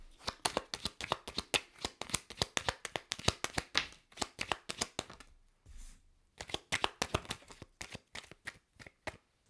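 Tarot cards are shuffled repeatedly by hand, quick riffling bursts in a steady rhythm with a brief pause midway, close and crisp.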